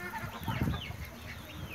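Índio Gigante chickens clucking and chattering close by at a farm, a short busy burst of fowl calls with no talk over it.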